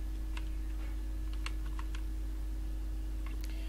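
Keys tap irregularly on a computer keyboard, faint scattered clicks in small bursts over a steady low electrical hum, with no talking.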